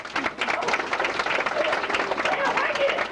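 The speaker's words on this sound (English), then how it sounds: "How about a round of applause for Raffy Bowen?" Audience clapping at a Dollywood show in Cades Cove, a brief burst of moderately loud applause with scattered crowd murmur mixed in.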